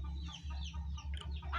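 Chickens clucking steadily on a free-range village chicken farm, several birds close by over a constant low farm hum, with no talk.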